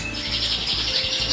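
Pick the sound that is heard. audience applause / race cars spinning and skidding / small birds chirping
small birds chirping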